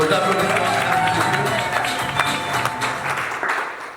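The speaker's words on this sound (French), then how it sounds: "Vos applaudissements, mesdames" Guests at a wedding clap for a witness as she is introduced, a lively round of applause with voices mixed in, fading slightly toward the end.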